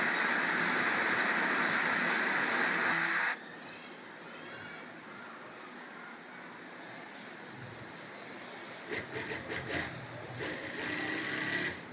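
A sewing machine stitching the side seam of a kurta slowly, a machine prone to breaking thread, runs with a loud steady whir for about three seconds before settling into quieter, softer running.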